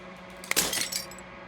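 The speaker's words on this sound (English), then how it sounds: "As the final fragment of glass shatters" Glass shatters in the video game Slay the Princess: a sharp crack followed by a quieter scatter of tinkling fragments, brief and fairly faint against a low ambient hum.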